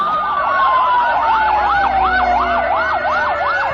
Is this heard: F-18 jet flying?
no